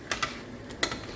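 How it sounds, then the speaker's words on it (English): A lid goes onto a pot of simmering sloppy joe meat with a few faint, light clicks: two quick taps, a pause, then another soft double tap over quiet kitchen background. "I'm actually going to put a lid on it and turn it down low"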